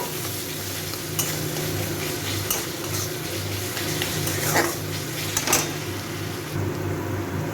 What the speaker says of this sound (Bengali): এই পেঁয়াজটাকে আর একটু ভেজে নেব